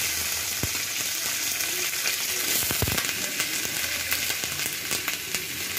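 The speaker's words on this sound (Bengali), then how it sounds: "এবার ভেজে নেব ক্যাপসিকাম আর পেঁয়াজ।" Capsicum and onion fry in oil in a wok, giving a continuous close sizzle with occasional sharp scrapes and clicks from stirring.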